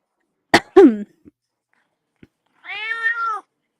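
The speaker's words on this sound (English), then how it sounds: "It just stays in the ceiling and meows at us all day." Cat inside a clinic ceiling giving a short, clear meow followed by a longer, drawn-out meow, with a few faint knocks between the calls.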